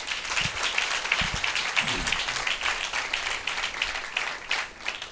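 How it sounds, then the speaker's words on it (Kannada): A church congregation claps during a Sunday service, a soft, steady patter of many hands from across the room with a few sharper nearby claps. "ನಾವು ಚಪ್ಪಾಳೆ ತಟ್ಟಿ ದೇವರಿಗೆ"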